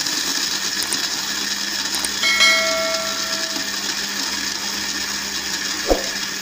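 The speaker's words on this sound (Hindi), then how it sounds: "इन सबको मैं अब ग्राइंड कर दूँगी।" A kitchen grinder spins a dry mix of char magaz, almonds, fennel and green cardamom, giving a steady whirring drone with a faint tonal whine and a small knock near the end.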